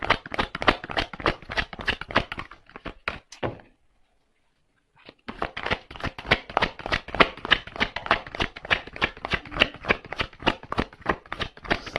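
Tarot cards shuffled by hand in rapid riffling bursts, a dense crisp flutter that stops for about a second and a half before resuming steadily and close, with no talk.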